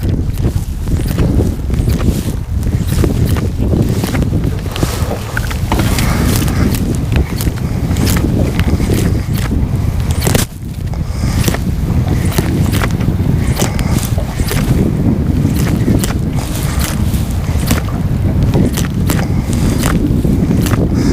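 Wind gusts buffet an open fishing boat drifting on a creek flat, a continuous loud rushing roar with low rumble and scattered knocks and thumps from the hull, no one speaking.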